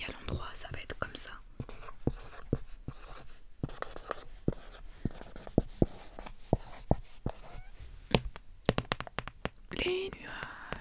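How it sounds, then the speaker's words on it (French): A pen scratches across paper in close, quiet strokes, writing a word backwards in an ASMR setting, with many short taps and scrapes in an uneven rhythm. "Et là quand je vais l'écrire à l'envers, pour que vous voyez à l'endroit ça va être comme ça."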